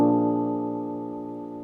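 A single jazz chord played in FL Studio, its third raised a half step, rings out alone and slowly fades over about a second and a half.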